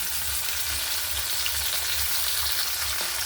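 Onion, garlic, green chilli and tomato fry together in a pan with a steady, close, loud sizzle and crackle, faintly pulsing as they are stirred, with no voices.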